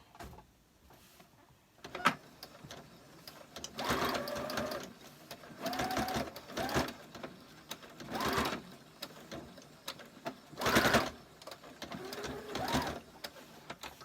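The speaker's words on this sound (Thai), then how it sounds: "แล้วก็จะเย็บตรงไปก่อนนะคะเย็บตรง ให้มันอยู่ก่อน" A sewing machine stitches a straight seam on a garment's back hook band, running in several close bursts of rapid mechanical whirring separated by short pauses with faint handling clicks.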